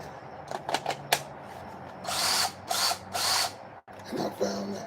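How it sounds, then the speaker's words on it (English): DeWalt cordless drill whirring in several short bursts, close and loud, with brief clicks and pauses between the runs. "That's a DeWalt drill, and that is a great drill."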